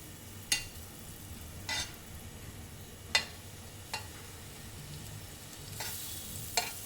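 Butter on a hot tawa giving a faint, low sizzle, broken by several sharp clinks and scrapes at irregular intervals, and no voices.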